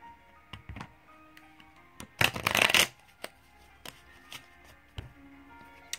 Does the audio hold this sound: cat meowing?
no